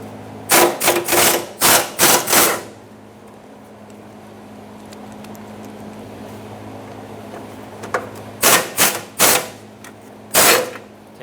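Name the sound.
removing fuel tank shield bolts on Toyota Tacoma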